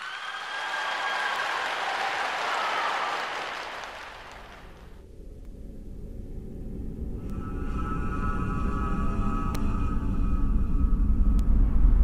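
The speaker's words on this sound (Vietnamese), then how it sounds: "cống hiến cho chúng ta bằng một tràng pháo tay nồng nhiệt" Warm, broad applause from the studio audience of a televised dance competition swells for several seconds, then fades out and gives way to a low, steady rumble.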